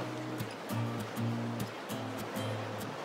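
Ocean waves at a cold beach in winter, a steady roar of surf with repeated whooshing surges every half second or so, fairly close and loud, with no talking.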